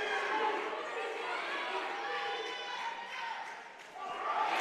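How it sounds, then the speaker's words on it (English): A boxing crowd cheers for fighter Nicky Tejada in the final round of his bout with Javier Torres, a steady, dense roar that swells again toward the end, with voices mixed through it. "Crowd rooting Nicky on here in the final throes of the last round"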